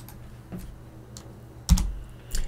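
A few separate keystrokes on a computer keyboard, spaced out and fairly close, with a sharper louder tap near the end and no talking.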